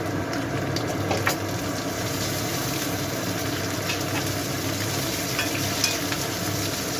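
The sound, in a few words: green chilli and tomato added to frying prawns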